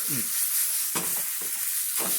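A utensil scrapes and stirs around a frying pan in a few sweeping strokes while making spaghetti Napolitan, over a constant bright sizzle of frying.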